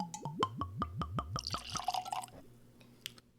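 Water from a dropper falls into a glass of bourbon whiskey as a quick run of about eight close, bright drips and a small trickle. The sound is quiet and gone within two seconds.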